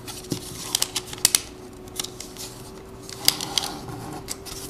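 Sheets of paper being folded and pressed into crisp creases, with sharp rustling snaps and brief crinkles scattered across the moment, close and moderately loud, no voice.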